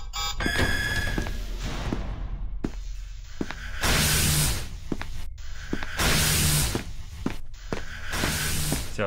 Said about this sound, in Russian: Я слышу телефон.